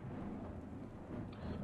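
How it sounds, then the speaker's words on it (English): Thunder rumbles steadily through a dark house in the video game Gone Home, a low continuous roll with rain-like texture that swells slightly near the end, heard alone without talk. "All the lightning, all the thunder"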